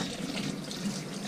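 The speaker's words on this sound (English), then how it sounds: "Get some warm water on the go." Warm water runs steadily from a kitchen tap in a home kitchen during crab apple and chilli jelly making, a continuous close hiss and splash with no talk.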